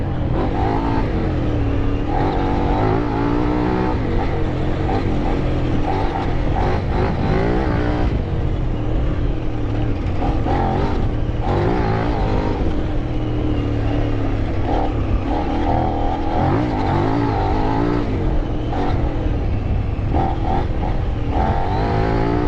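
A Kove 800 Rally motorcycle on new tires rides through sand, its engine droning loud and close with continuous revving and shifting pitch under wind buffeting for the whole stretch.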